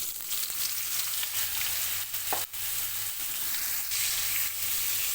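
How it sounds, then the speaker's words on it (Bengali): Soybean chunks and potato pieces fry together in an oiled pan, sizzling steadily up close, with stirring scrapes and one brief sharp knock midway. "আলুর সাথে এখানে আমি সয়াবিনটা দিয়ে দিলাম একসাথে সয়াবিনের আলুটা ভেজে নেব"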